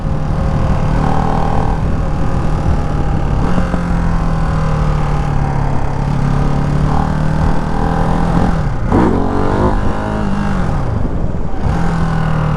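Ducati Hypermotard 698 Mono single-cylinder motorcycle pulling hard in second gear on the road, its loud steady engine note climbing, then a sharp shift or throttle blip near the end, with a continuous close rider-side roar throughout.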